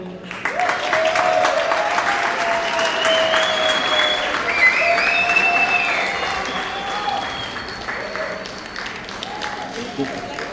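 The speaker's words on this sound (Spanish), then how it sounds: "Un aplauso, por favor." Audience applause at an evening talk on exploring the Atacama Trench, a steady dense clapping that swells quickly and holds loud for about ten seconds with faint cheers mixed in.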